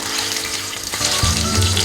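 Chicken chapli kababs fry in a pan with a loud, close, continuous sizzle, growing busier and more crackling partway through as the oil spits.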